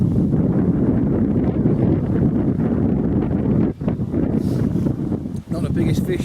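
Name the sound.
wind blowing at lakeside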